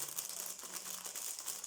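Scissors snip through thick cardboard die cuts, giving close crinkly, rustling crunches and scraping cuts that continue unevenly through the short stretch without talk.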